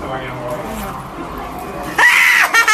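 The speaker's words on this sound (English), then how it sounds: "Nicki captures the whole thing on camera before screaming with excitement" A woman lets out a loud, high excited scream for about half a second near the end, following a stretch of noisy background chatter and sound.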